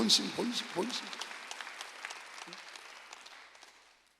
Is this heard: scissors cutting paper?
no